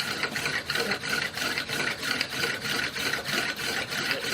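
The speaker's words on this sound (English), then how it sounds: "Just let the pump drill do all the work." A hand-powered pump drill spins and bores into material, making a steady, close rasping grind with a regular rhythmic pulse about twice a second as the crossbar is pumped, with no voices.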